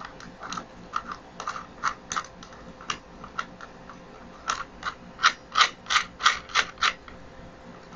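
Ratchet wrench snugging down the freehub body nut on an e-bike repair, a series of sharp mechanical clicks in bursts, growing louder and more regular toward the end, heard alone.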